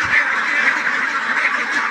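Pekin ducks on a farm give a dense, continuous chorus of overlapping quacks, close and fairly loud throughout with no pauses.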